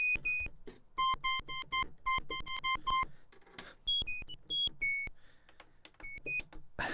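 A lone synthesizer square-wave oscillator, VCO 1, plays short, bright, buzzy beeping notes in a quick rhythmic sequence. The notes jump between pitches, with brief gaps and a final higher sustained tone, clear and with no one talking.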